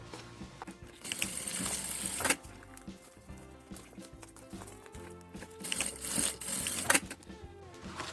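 A sewing machine stitches four milk cartons together into a transparent case, running in bursts of rapid mechanical clatter broken by short pauses, fairly close.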